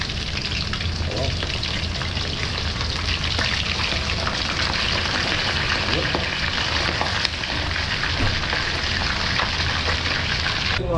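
Tilapia sizzles and crackles steadily in hot oil in a pan, a loud, dense frying hiss that carries on without a break from start to finish.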